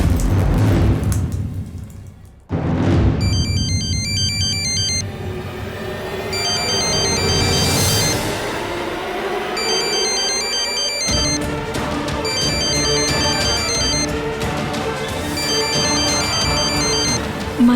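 A phone ringtone plays in repeated electronic melodic bursts over a steady background of rain and rumbling, ringing several times across the span with short gaps; fairly loud, with no talking.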